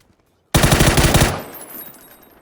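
Automatic gunfire in PUBG Battlegrounds, a loud close burst of rapid shots lasting under a second after silence, then a trailing echo that fades away.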